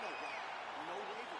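Crowd applauding at a boxing match after a round with a knockdown, a steady, dense wash of clapping and cheering that holds level for the whole moment, with a few faint raised voices drifting through the noise.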